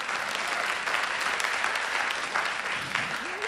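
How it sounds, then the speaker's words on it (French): An audience applauds graduates in a continuous wash of clapping that holds at an even level throughout, fairly close and with no pauses. "Est-ce qu'on peut donner encore une main d'acclamation?"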